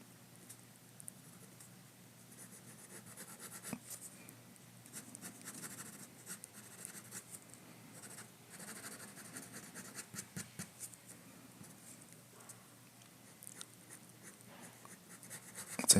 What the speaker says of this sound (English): I just have to kind of draw it